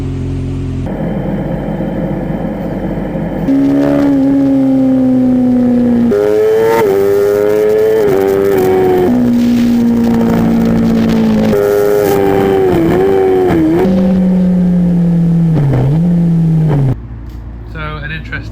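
A racing motorcycle circles a track on a test day, its engine droning loud and steady with rising and falling pitch through gear changes, and a voice talks over it.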